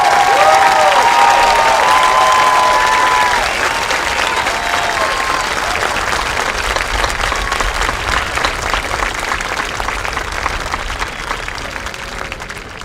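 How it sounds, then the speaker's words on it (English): Applause at a high school graduation ceremony for students: loud sustained clapping from a large audience that gradually thins and fades over several seconds. "Please give a round of applause for these students."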